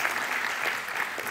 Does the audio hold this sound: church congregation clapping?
yes